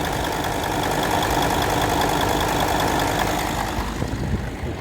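A Volkswagen Touareg engine idles steadily at close range just before being switched off, with an even low rumble and a constant mechanical hum throughout.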